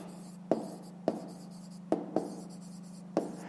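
Pen or chalk strokes during a fifth-grade maths exercise, five short scratchy taps spaced unevenly over a steady low hum, fairly quiet and close, with no talk.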